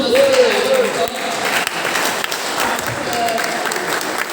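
An audience applauds at an assembly on agricultural and natural land, a dense, steady wash of clapping that holds at the same level throughout.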